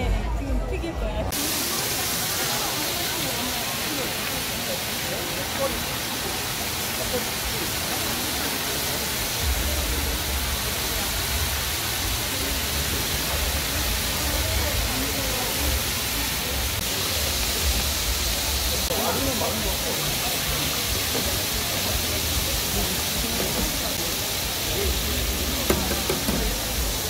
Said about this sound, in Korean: 예, 지금 튀길 거예요.